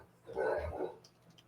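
Single short dog bark, close and fairly loud, rising quickly and fading within a second against quiet indoor background.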